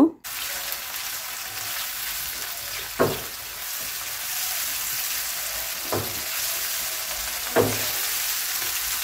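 Ginger and garlic paste fries in hot oil with salt, a continuous steady sizzle broken by a few sharp spoon scrapes and knocks spaced several seconds apart.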